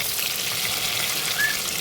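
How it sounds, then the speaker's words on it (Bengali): Stuffed pointed gourds (potol) fry in oil over a low gas flame, giving a continuous close bright sizzle with no talking. "এবার এই যে পটলগুলো ভরে রাখা পটলগুলো এবার আমি একে একে তেলের মধ্যে দিয়ে দেবো"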